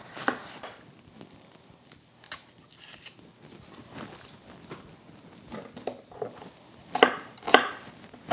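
A knife chops organic onions on a cutting board for crisp sweet relish, giving irregular crisp thuds and crunches that bunch into a louder pair of strokes near the end, close and clear with no talking.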